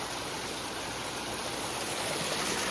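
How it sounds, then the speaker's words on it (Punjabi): A clear mountain stream babbles on a trekking trail between Biskeri and Pulga on the Sar Pass route, a steady, close rush of water with no talk over it. "ਕਲ ਕਲ ਕਰਦਾ ਪਾਣੀ ਸਾਫ ਬਿਲਕੁਲ ਸਾਫ ਪਾਣੀ"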